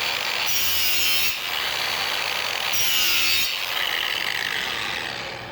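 An All American sharpener grinding the underside of a Honda Micro Twin Cut mower blade with an adapter plate: harsh, rasping metal grinding in about three or four passes of steady scraping, close and loud, with no talk.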